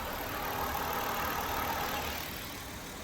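A car engine runs steadily just after a timing chain job on an older distributor-equipped vehicle, giving a continuous, even mid-range hum at moderate level with no voices.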